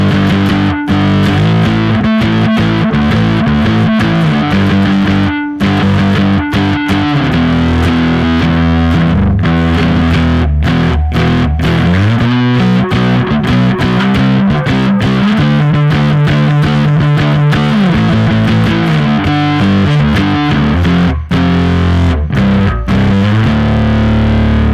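Heavily distorted electric guitar played through the Ace of Spades amp preset in Bias FX 2 software, loud and continuous with chugging riffs and shifting chords throughout, no talking.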